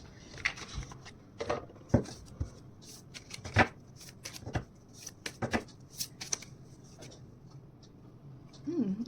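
Oracle cards being shuffled by hand, a run of quick papery riffles and soft flicks in uneven bursts, close and fairly quiet, with a voice briefly heard near the end.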